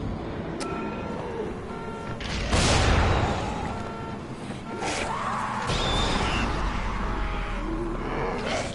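A harsh, loud screech bursts out over busy Dying Light game noise, with other crashes and rumbles around it.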